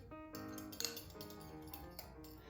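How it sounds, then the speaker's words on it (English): A fork whisking spices and thyme together in a small bowl, making quick light clinks and scrapes with a brief sharper tap near the start. "take a fork or a small whisk and really blend all of these flavors together"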